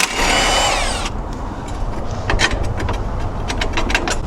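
A 14mm wrench works a strut bolt from the back side on a 2022+ Subaru WRX: a brief tool whine, then a run of quick, close ratcheting clicks with no talk.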